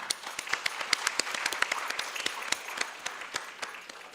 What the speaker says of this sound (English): Let's give a round of applause for that workshop.